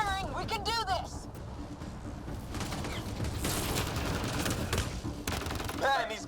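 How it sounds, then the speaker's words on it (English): Rapid sustained gunfire from a firefight in the video game Mass Effect Andromeda, loud continuous volleys with mechanical clatter, mixed with shouted speech at the start and end. "Just keep firing!"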